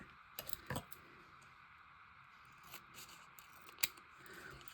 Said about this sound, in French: ce que je vais faire, c'est que je vais venir la découper